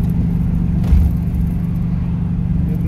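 A ZAZ-965 engine drones at a loud, steady low pitch with the pedal nearly floored, the car running rich and not gaining revs; the rumble from inside the car stays close and constant, with a brief swell near the start.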